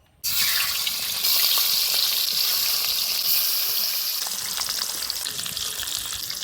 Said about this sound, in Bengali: কড়াইতে তেল গরম হয়ে গেছে এবার মাছগুলো ভেজে নেবো